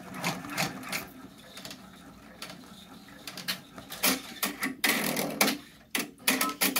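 An in-the-hoop embroidery machine stitches pocket placement lines in white thread for a bat hand sanitizer case, giving bursts of rapid mechanical needle clatter with short pauses between runs, close and moderately loud, with no talking.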